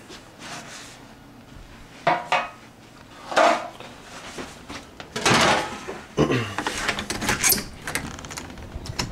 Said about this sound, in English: I'm trying to find my pan here that I normally test it in.